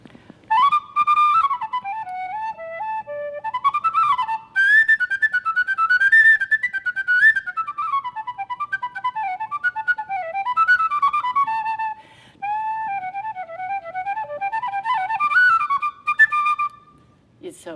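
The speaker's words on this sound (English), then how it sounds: "They're called penny whistles when they're this size, this particular size." A wooden penny whistle plays a lively Celtic melody of bright, breathy notes, close and loud, in phrases separated by short pauses for breath.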